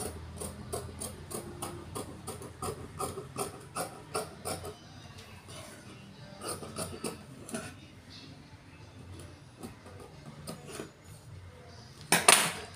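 Scissors snip through churidar fabric while cutting the back neckline during tailoring, giving a run of close, crisp clicking cuts with small metallic clinks over a quiet room.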